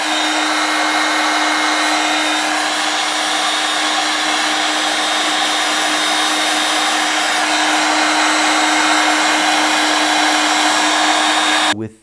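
A heat gun blows steadily at heat shrink tubing on a car wiring harness, giving a loud, even roar with a fixed hum that runs unbroken before cutting off abruptly at the end.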